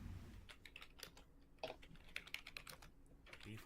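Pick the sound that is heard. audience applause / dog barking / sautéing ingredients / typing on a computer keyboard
typing on a computer keyboard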